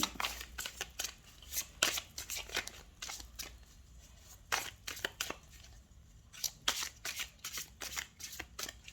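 Tarot cards being shuffled and cut by hand, a rapid series of crisp riffling bursts and soft slaps in irregular clusters, close and fairly quiet with no talking.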